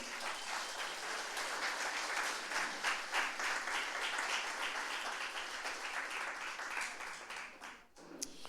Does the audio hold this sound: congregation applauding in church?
yes